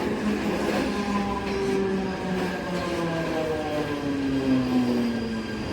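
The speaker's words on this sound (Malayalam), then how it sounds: "പനവയിലേക്കുള്ള ട്രെയിൻ എത്തിയിരിക്കുകയാണ്" A local train bound for Panvel rolls into a Mumbai station, its steady rumble and metallic wheel squeal continuing throughout at moderate distance, with no voices.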